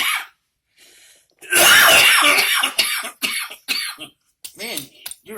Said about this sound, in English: Man, your exhale makes me cough.